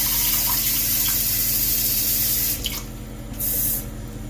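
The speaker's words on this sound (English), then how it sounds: "I need to still add 1 cup of water here, which I will do right now" Cup of water poured from a running tap while making a lemon meringue pie filling in a kitchen, a steady close hiss of flowing water with brief splashing bursts near the end.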